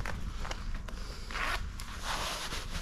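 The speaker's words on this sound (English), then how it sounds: "You've got zips at the side for vents." Zippers worked on the side vents of motorcycle riding pants, a few short rasping pulls close up over a steady background hum, with no talking.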